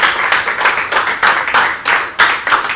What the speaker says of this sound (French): ce sera bien sûr sous les applaudissements de ces magnifiques publics